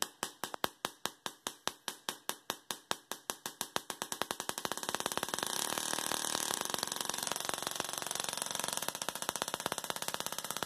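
A full bridge solid state Tesla coil runs at 50 volts AC, its sharp crackling pulses quickening until they merge into a harsh, continuous buzz that carries on at a fairly low level.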